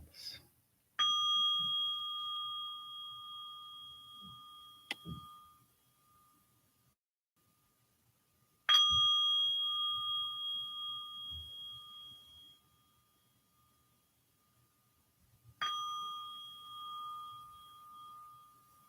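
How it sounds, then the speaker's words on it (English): Three clear meditation bell strikes, each ringing out with a long sustained resonant tone that slowly fades, spaced several seconds apart in quiet surroundings. "listening to 3 bells."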